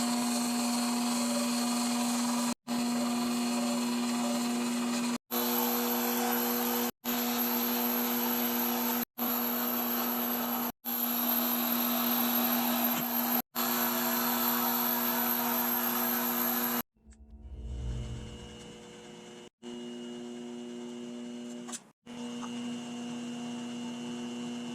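A 1950s Atlas metal lathe takes interrupted cuts on a large-diameter part, giving a loud, steady machine whine with a strong hum. Brief stops break it up, and a heavy low thump near the end changes the tone.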